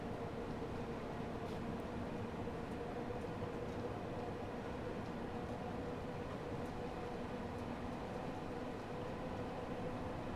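A Bakerloo Line London Underground train runs in the Train Sim World 2 game, giving a continuous low rumble and rolling rail drone with faint clicks, steady and moderately quiet with no talk.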